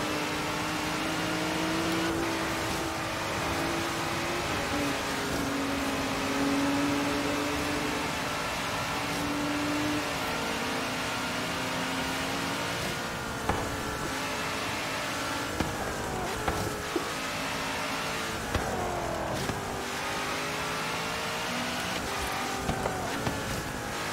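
Race car engine in Forza Horizon 3, a Le Mans prototype, holding a steady droning tone with shifting pitch as it accelerates and changes gear, continuous and fairly loud with a few short clicks near the end.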